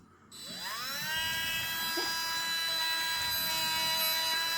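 A handheld rotary multi-tool is switched on with a fresh bit locked in its collet. It spins up with a rising whine within the first second, then holds a steady, high, tonal buzz close by.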